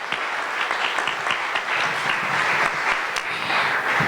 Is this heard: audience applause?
yes